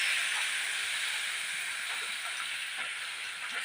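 Water poured onto leafy greens frying in a pan gives a steady, loud, airy sizzle that holds evenly throughout, with faint clicks and crackles underneath.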